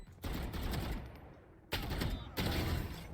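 Bursts of automatic gunfire in the Valorant shooter game, a sustained rattling volley, a pause, then two more loud bursts close up, with no talk over them.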